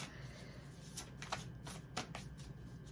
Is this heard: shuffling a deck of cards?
yes